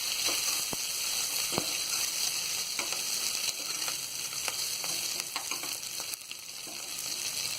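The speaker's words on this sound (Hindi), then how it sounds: "अब इसमें हम ये हरी मिर्ची डाल देंगे और हरी मिर्ची को भी हम थोड़ा तल लेंगे" Green chilies frying in hot oil with already-fried onions for sambar: a steady close sizzle with scattered pops and faint stirring scrapes, no talking.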